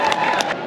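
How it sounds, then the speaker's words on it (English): An audience at a convention costuming talk briefly cheers and whoops for Darth Vader costumers, a short burst of crowd noise that fades quickly. "I'm going to have a big cheer for them both"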